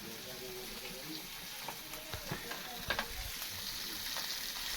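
Fish pieces frying in a pan send up a steady, moderately loud sizzle throughout, with a few soft clinks and stirring noises partway through.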